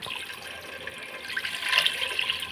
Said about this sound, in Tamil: தண்ணி இந்த மாதிரி அளந்து ஊற்றும்போது